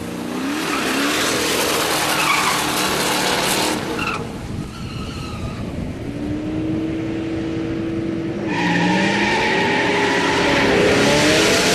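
A Ford Boss 429 muscle car launches hard with its tires spinning, a loud, close squeal and skid over a roaring engine that rises in pitch, then drops and swells again as it pulls away.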